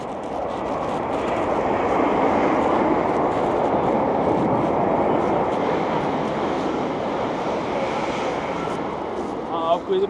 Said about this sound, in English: the train is going really fast